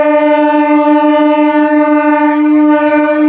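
A train arrives at Pandillapalli railway station, sounding a loud, sustained horn-like tone that holds steady, rich in layered pitches, for the whole stretch with no voices.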